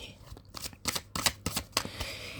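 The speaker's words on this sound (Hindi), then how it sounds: "लास्ट शफल, हर हर महादेव।" Tarot cards are shuffled by hand in a series of quick riffling bursts with short pauses between them, close and fairly soft, with no talking.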